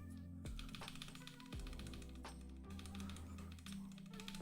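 Typing on a mechanical keyboard fitted with Blue Velvet switches, quick bursts of clacky keystrokes between low sustained tones of background music.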